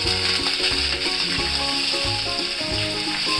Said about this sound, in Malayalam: ഇനിയിപ്പോൾ ഇടുന്നത് വേപ്പിലയാണ്.